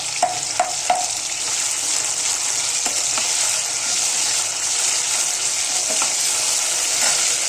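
Ginger-garlic masala paste and onion roast in a pan with a continuous frying hiss, while a few quick spatula clicks near the start and scattered later mark the stirring.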